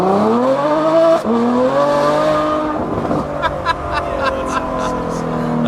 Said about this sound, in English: There's nothing that sounds like a V12.